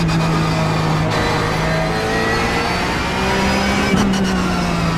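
Porsche 911 GT3 Cup engine in iRacing at the Nurburgring, heard from the cockpit: a loud continuous flat-six howl holding high revs, with rising gear-change tones and a brief shift blip near the end.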